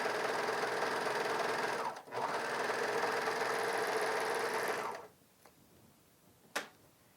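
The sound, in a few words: Bernina 700D serger sewing elastic onto fabric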